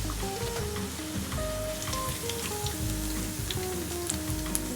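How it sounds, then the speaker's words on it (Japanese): Homemade kakiage tempura deep-frying in oil, a steady close crackling sizzle with dense bubbling pops, with no talk over it. "揚げていきます"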